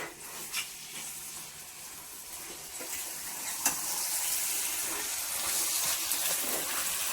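Boti (goat tripe) vakkaya curry frying with curry leaves is stirred in a pan: a steady, close hiss and sizzle with a few soft scrapes of the spoon, growing slightly louder toward the end.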